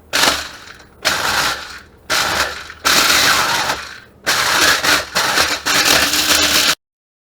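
Food processor grinding dried celery in loud, chopping bursts, pulsed on and off several times with short silent gaps between pulses.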